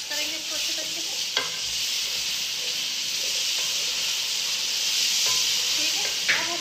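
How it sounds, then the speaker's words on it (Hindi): Chopped tomatoes are stirred into mutton tripe frying in a pan, a loud continuous sizzle and hiss with a few sharp scraping stir strokes, close and without talk. "मिक्स करेंगे इसको अच्छे तरीके से"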